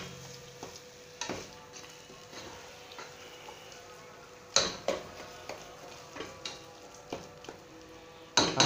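A spoon stirring salted potato curry in a pan, with soft scraping and sizzling under a string of sharp taps against the pan, irregular and fairly close, growing more frequent toward the end.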